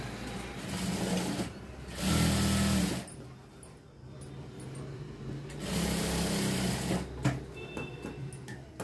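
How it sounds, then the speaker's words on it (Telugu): A sewing machine stitches tucks on a long frock in steady whirring bursts, each run a few seconds long with brief slowdowns between, the motor hum close and even. "ఈ విధంగా ప్రతి టక్స్ కి డబుల్ కుట్ అనేది వేసుకోవాలి."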